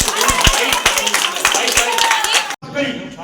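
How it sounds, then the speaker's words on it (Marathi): An audience at a Home Minister game show event in a housing society applauds loudly and steadily in a dense burst of clapping that cuts off abruptly near the end, with a faint voice afterward. "सगळ्यांसाठी एकदा जोरदार टाळ्या होऊन जाईल"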